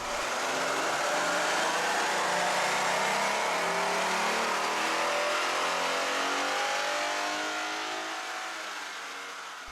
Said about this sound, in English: Let's start with the baseline dyno run.